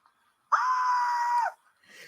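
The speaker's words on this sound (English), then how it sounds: "I'm playing the fucking screaming sound" A single loud scream sound effect plays, a sustained shrill cry held for about a second that cuts off abruptly. A fainter, shorter tail follows, and no voices are heard.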